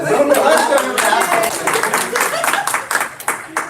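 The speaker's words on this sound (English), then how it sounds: "We can clap for you" An audience at a city arts commission meeting claps steadily, a dense patter of hands that tapers into scattered claps toward the end, with some voices mixed in.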